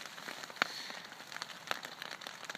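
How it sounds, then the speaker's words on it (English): Soft hail or snow pellets fall outdoors, giving faint, sparse ticking and pattering on the ground with a few sharper individual taps over a quiet hiss. "They're almost hail. They're soft versions of hail, if you will, or snow."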